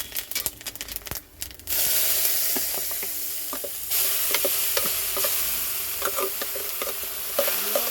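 Fenugreek seeds hit hot oil in an iron pan, and a burst of rattling clatter gives way to a loud, dense sizzle that carries on with scattered crackles and stirring scrapes. No talking.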